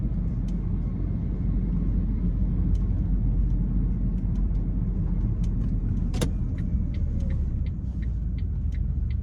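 A car drives through Baltimore city streets, its steady engine and road rumble continuous throughout, with a brief sharp knock or clunk partway through and faint distant traffic noise.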